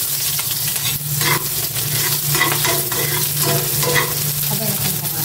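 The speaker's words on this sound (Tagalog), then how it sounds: "Maglagay na ko ng cooking oil. Igisa ko na po. Sibuyas." Onion sautés in hot cooking oil with a loud, continuous sizzle, broken by brisk scraping strokes as it is stirred in the pan.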